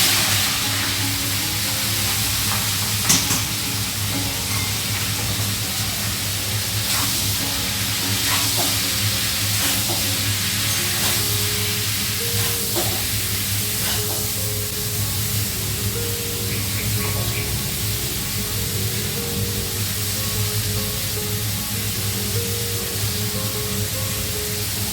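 Taro curry cooks in a pan, giving a soft, steady sizzle and hiss that runs unbroken throughout, with faint clinks and occasional small bumps beneath it.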